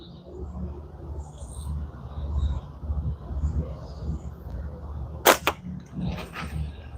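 Gunshots while plinking at targets outdoors, two sharp cracks close together late in the clip, heard over a steady low background rumble.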